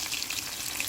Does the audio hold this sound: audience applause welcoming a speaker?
no